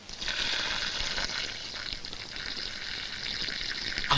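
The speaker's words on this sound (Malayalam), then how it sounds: "അവിടെ എന്തോ ലീക്ക് ചെയ്യുന്ന ശബ്ദം" A steady hiss of leaking air or liquid comes over a tapped telephone line, broadband and continuous at moderate level with slight fluctuations and no talking.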